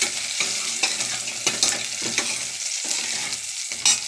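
Onions salted and frying in a pan give a steady close sizzle, with scraping strokes of a spoon stirring through them at irregular intervals and no voices.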